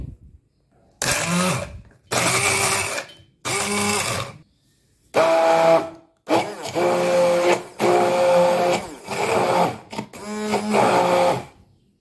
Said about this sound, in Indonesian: Masukkan ke dalam blender.